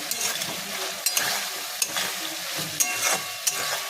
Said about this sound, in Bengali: ভালো করে এই সসটাকে একটু কষাতে হবে